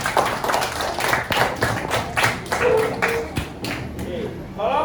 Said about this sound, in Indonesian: Tepuk tangan buat kelompoknya Arfa.